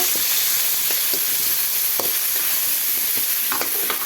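Tomato pieces with a spoon each of salt and turmeric are stirred into potatoes and spices in a hot pan, giving a steady close sizzle broken by a few short scraping strokes of the spoon.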